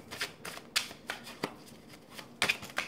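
Tarot cards shuffled by hand in a run of crisp, riffling bursts with brief pauses between them, close and clear with no talking over them.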